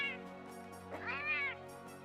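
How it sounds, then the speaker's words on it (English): A high-pitched cat meow from a Palico-style feline companion in Monster Hunter World: Iceborne, a single rising and falling call over steady game background music, fairly faint. "we need to get high-pitched cat sound"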